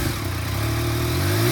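A used 2017 Yamaha XSR900 retro sport motorcycle with a triple-cylinder engine revs loud and close, its rough, throaty note climbing steadily in pitch over a short burst.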